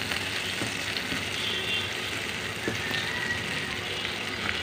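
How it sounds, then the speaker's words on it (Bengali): Chopped onion frying in oil in a pan, a steady close hiss and crackle of sizzling with occasional scraping knocks from stirring, continuous throughout. "দিয়ে দেব 1 বাটি কুচি পেঁয়াজ। এখন এটাকে আমি ভালো করে নাড়াচাড়া করে নেব।"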